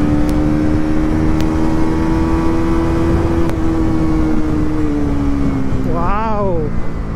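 A Bajaj Pulsar NS400Z motorcycle engine pulls steadily in fourth gear, a loud continuous drone with rising pitch near the end, amid wind rush and no talking.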